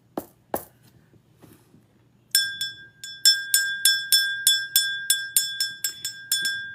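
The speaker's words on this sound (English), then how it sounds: "The bell is me calling upon my spiritual team to help me in a reading." A small bell rung to open a tarot reading chimes in a quick, bright series of clear metallic strikes, each ringing briefly, after a few soft knocks and near silence.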